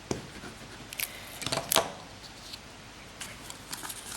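Scissors snip through paper for an Easter basket craft, a few sharp close cuts, one notably louder, amid quiet paper handling.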